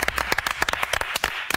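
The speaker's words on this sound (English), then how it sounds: "give us a round of applause" A small group claps in quick, uneven bursts, the individual hand claps distinct and close rather than a full crowd roar.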